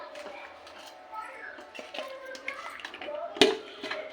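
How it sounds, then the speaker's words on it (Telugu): Rice poured into a pot of cooking chicken gives a soft, scattered patter and rustle over a few seconds, with a sharper splash-like burst near the end. "రైస్ వేస్తున్నాను"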